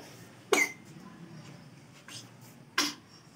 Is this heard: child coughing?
yes